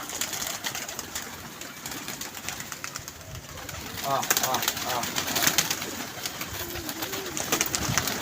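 Pigeons cooing inside a netted loft at a pigeon club, several soft throaty coos overlapping with rustling and wing flutters, while people talk nearby.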